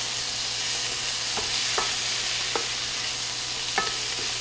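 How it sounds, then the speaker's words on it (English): Garlic, black pepper and spices sizzling steadily in a hot pot for a one-pot smoked sausage and creamy pesto pasta, with a few soft stirring clinks over the continuous frying hiss and no talking. "So I'm going to cook this down for just 1 minute. We do want to cook that garlic."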